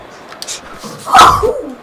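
A single sharp sneeze bursts out near the microphone, loud and brief, with faint background murmur before it during a Fight Night Champion boxing game.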